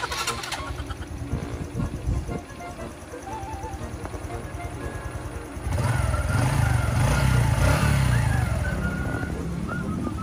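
A Honda RS125i motorcycle engine cranks and catches, its idle settling into a steady, loud, rough putter that carries on to the end.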